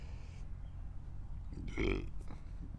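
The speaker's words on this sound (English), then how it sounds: "It gave me the chili burps" A burp, the aftermath of eating a Carolina Reaper and a ghost pepper, rises briefly near the end as a single low guttural eruption close to the mic, with no talk around it.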